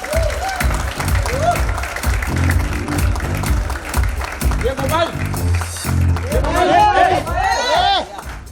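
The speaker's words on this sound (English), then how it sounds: "Big round of applause." Applause and cheering from an audience greet guests walking onto the stage at a celebrity promotional event. Steady, dense clapping with crowd chatter builds to louder whoops and shouts near the end.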